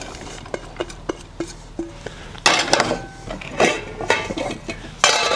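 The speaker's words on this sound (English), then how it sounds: "time to put our bacon in" Strips of bacon dropped into a pan for brisket and corn dodgers, giving a few light clinks at first, then a louder burst of hiss and sizzle that rises and falls, close by with no talk.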